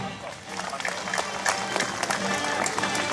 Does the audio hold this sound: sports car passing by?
no